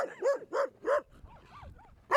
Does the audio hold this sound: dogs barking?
yes